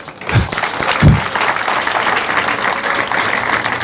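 A crowd at an outdoor ceremony launching housing renovation in Mpazi, Kigali, breaks into sustained, dense applause that carries evenly for several seconds, with a couple of stronger low thumps near the start.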